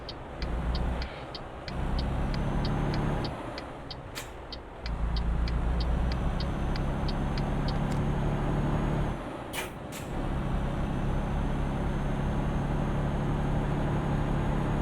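A Mercedes Travego bus drives in Euro Truck Simulator 2 with a steady loud engine drone, rhythmic clicking of an indicator early on, and brief air-brake hisses that break the drone twice.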